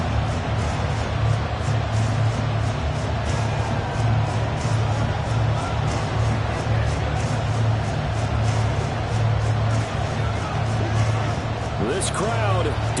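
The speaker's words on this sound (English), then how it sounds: "This crowd doing all they can." A steady roar of stadium crowd noise fills a Jaguars at Titans football video game, constant and loud throughout, with no distinct peaks, and the game's commentary runs over it.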